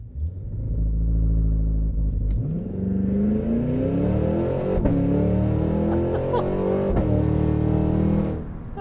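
A Cadillac Escalade V launching hard from a standstill, its engine first held at a steady high rev, then roaring as it climbs through rising gears, loud and close from inside the cabin.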